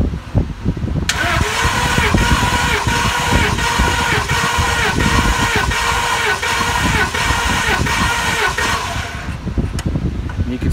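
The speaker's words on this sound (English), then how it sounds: "Cylinder number four, go ahead and crank it." A Ford F-250 with the 6.2 engine cranks steadily during a compression test on a cylinder, a loud rapid rhythmic churning that runs unbroken for about eight seconds before stopping.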